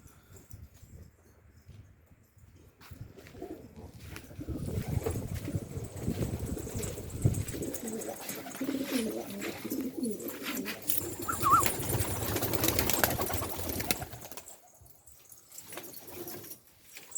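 Domestic pigeons set loose on a fine day coo and flutter near the loft, a steady bed of bird calls and wing noise swelling through the middle and easing off.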